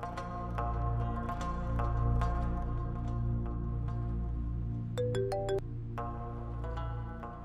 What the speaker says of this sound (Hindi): फौरन अरमान को फोन मिलाओ